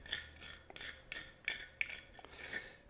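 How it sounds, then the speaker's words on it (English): Whole nutmeg rasps across a small nutmeg grater over sliced apples in a series of quiet, short scraping strokes with an uneven rhythm, faint but close, with no voices. "What I have here is a piece of nutmeg that I'm grating onto the apples."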